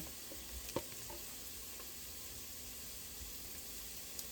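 Food sautéing in a pot for a one-pot meal gives a faint, steady sizzle and crackle, with a couple of brief utensil clicks near the start.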